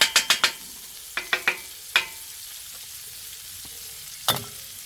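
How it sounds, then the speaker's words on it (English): Minced garlic frying in a little oil for bacon fried rice, a soft continuous sizzle punctuated by sharp metallic clinks of a utensil against the pan, several in quick succession at the start and a few more later. "you just want to cook the garlic a little bit before you mix it in"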